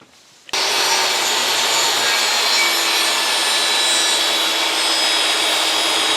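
A wooden board is cut at a 45-degree angle with a saw, a steady loud rasping roar starting abruptly after a brief quiet moment and continuing unbroken to the end.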